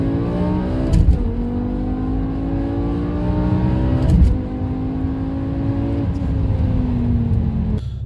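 A BMW M5 V10 revs hard under acceleration, its loud, close engine climbing in pitch through several rising sweeps with brief shifts between them, steady and unbroken for the whole stretch.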